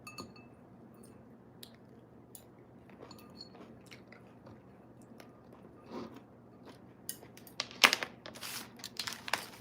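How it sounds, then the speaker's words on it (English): Someone chews food close to the microphone, with soft wet squishes and smacks building into louder crunching bursts toward the end over a low steady hum. "Sorry, I'm chewing in y'all ear."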